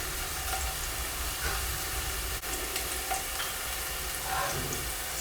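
Vegetables sweating in a frying pan after a quick stir, giving a steady, moderate sizzle and crackle with no voices.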